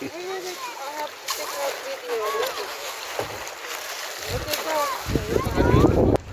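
Water sloshes and splashes around a kayak being set down and shifted on a lake, with people talking over it nearby; a heavier splash comes near the end.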